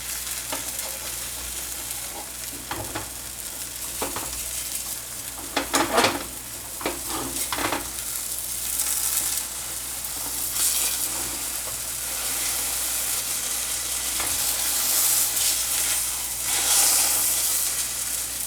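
A jian bing crepe fries steadily in a hot pan, a continuous close sizzle and hiss with occasional louder crackling bursts and scraping stirs, no voices.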